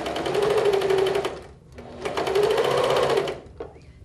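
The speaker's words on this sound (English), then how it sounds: "I'll get my foot feed here and then I'll just sew it on." Sewing machine stitching trim onto fabric, a rapid even mechanical chatter running in two bursts with a brief pause between, close and clear.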